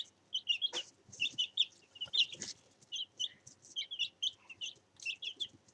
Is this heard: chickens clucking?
yes